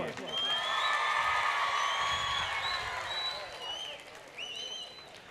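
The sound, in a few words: audience loud applause and cheering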